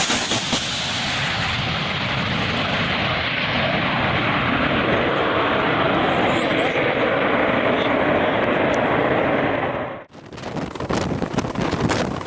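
A giant heavy-lift helicopter, powerful enough to tow armored vehicles, roars loudly and steadily with broadband rotor and engine noise and wind buffeting, then cuts off abruptly before a short burst of noise.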